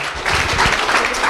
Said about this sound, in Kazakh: Қол шапалақтап қояйық, қарындасымызға көп рахмет.